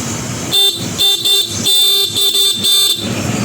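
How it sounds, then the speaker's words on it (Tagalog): A Honda ADV160 scooter's horn blasts in several short, loud, close honks with brief gaps, a steady buzzy tone in each toot. "Busina naman tayo."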